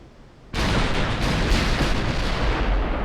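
A battleship fires a full gun salvo in Ultimate Admiral: Dreadnoughts. One sudden, loud booming discharge breaks a quiet moment and rolls on as a long, heavy rumble.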